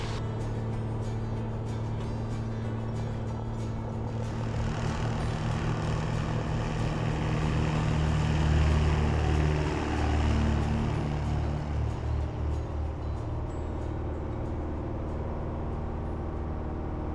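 A small propeller airplane at full power holds a steady, droning engine roar with a strong low hum throughout, swelling slightly midway as it accelerates for takeoff from a short 900-foot grass strip.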